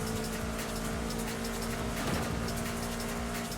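Faint, steady rain hiss in Forza Horizon 5, a continuous wash of patter with a low car engine hum and a brief bump partway through.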